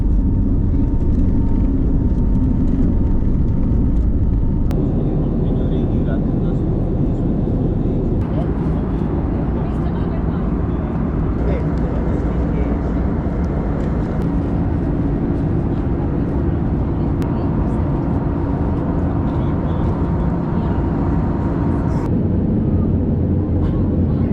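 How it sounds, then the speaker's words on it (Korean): Steady low roar of a large passenger airplane for a flight to Delhi at a small Indian airport, a continuous engine and apron drone lasting throughout with faint voices and ambient noise mixed in. "그래도 델리 가는 비행기는 좀 크네"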